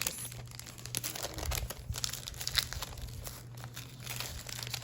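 Plastic packaging holding a pack of 24 iridescent foil snowflakes with tissue, handled up close with soft, continuous crinkling and rustling at low volume.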